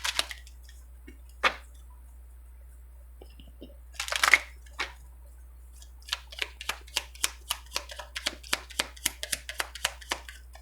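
Tarot cards being shuffled close by, starting with scattered soft flicks and rustles, then a rapid series of crisp riffling snaps toward the end, quiet and without speech.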